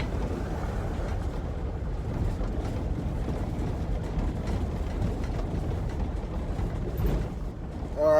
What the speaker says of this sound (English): Here comes another vehicle.